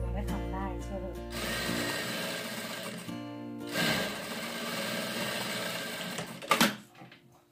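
A sewing machine stitching a cushion cover runs in whirring bursts, starting and stopping a few times, close and fairly loud, ending with a couple of sharp mechanical clacks.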